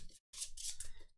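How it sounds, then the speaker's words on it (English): A Dune CCG card deck gets shuffled at close range in two quick bursts, first a short riffle and then a longer crisp, papery riffle after a brief pause. "This gets shuffled before we start."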